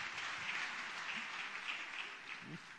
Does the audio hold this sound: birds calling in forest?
no